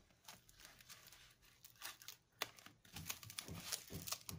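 A phone package wrapped in foam is cut open for unboxing. Close, quiet crinkling and tearing come in irregular bursts, with no voice.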